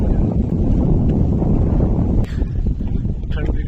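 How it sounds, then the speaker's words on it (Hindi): Cool wind blows across an open field on a barefoot pilgrimage trek to Baba Balak Nath, roaring as heavy, constant buffeting against the microphone with a brief dip partway through. "ठंडी ठंडी हवा चलती हुई"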